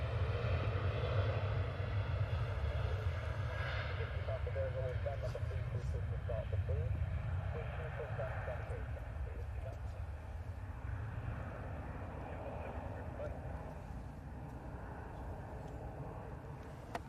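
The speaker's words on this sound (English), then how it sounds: "this Ryanair is off to Cologne" A Ryanair jet airliner departs Manchester for Cologne with a low, distant engine rumble that slowly fades, while people talk over it throughout.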